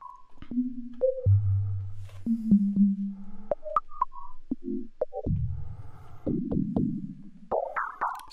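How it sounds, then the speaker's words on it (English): Mutable Instruments Plaits Eurorack synth module playing a sine-wave-based tone: a series of clean, steady pitched notes jumping between high and low registers, with some gliding and buzzier bursts toward the end, heard alone. "So the difference is that this is now a sine wave based one and the normal one is sawtooth."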